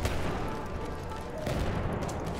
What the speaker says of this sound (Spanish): Siento disparos, explosiones por todos lados.